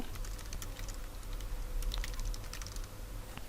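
Steady typing on a computer keyboard while filling in a resume in MS Word, a continuous run of close, light key clicks over a low background hum with no talking.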